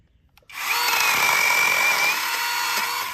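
A small, cheap handheld chainsaw used at a sawmill starts abruptly and runs at a steady, loud, high-pitched buzz with a constant whine, close up and with no talking over it.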